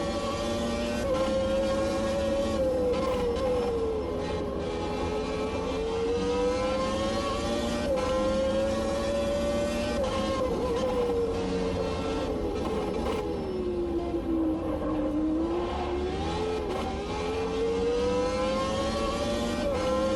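In Automobilista 2, a race car with a 780-horsepower V10 that revs to 14,000 RPM gives a loud, sustained engine whine from onboard, rising and falling repeatedly through the revs as it drives.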